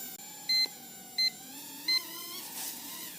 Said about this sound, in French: une fois que vous entendez les 3 bips, vous donnez en fait une direction à votre drone